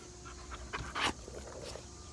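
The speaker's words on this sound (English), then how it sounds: "That's the energetic dog, Griffin." A dog on a property with chickens pants softly in quick, faint breaths, with a brief louder huff near the middle and no talking.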